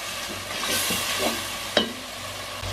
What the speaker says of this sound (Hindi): अब 2 मिनट इसको भून के जो यखनी वाला हमारा पानी है वो डालेंगे।